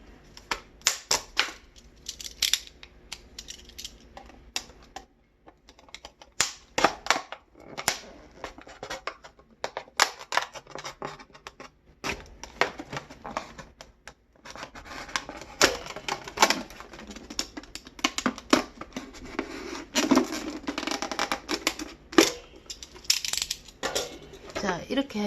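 Scissors cut through a plastic PET bottle with a dense run of crisp crackling snips and crunches, close and uneven in rhythm, with a short pause partway through.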